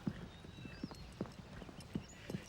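A horse in an animated series clip-clops along at a steady walking rhythm, hooves striking about every half second at moderate distance over quiet background sound, with no talking.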